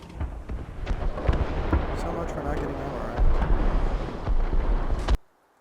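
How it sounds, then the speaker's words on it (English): Deep, roaring blast of a tank's ammunition rack exploding in a video game, a dense rumble sustained for about five seconds before cutting off abruptly, with no talk over it. "We got ammo racked. So much for not getting ammo racked."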